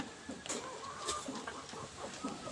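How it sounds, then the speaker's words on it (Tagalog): Brooding mother hen clucking in soft, irregular bursts, fairly close, with faint background noise and occasional brief higher calls. "Ayun, yung inahin oh."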